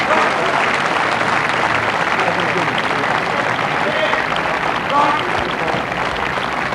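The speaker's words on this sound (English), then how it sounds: "The applause tells the story of this match." Steady applause from an audience fills the whole stretch, a dense even clatter of clapping hands with faint crowd murmur.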